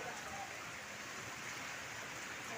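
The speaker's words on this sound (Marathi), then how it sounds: "पाऊस चालू आहे बघा" Soft, steady rain hisses evenly throughout, a faint continuous patter with no voices.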